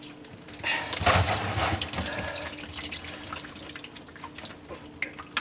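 Water bursts out of a loosened garbage disposal drain pipe into a pan beneath the sink, a sudden loud splashing gush that tapers into a steady trickle and scattered drips.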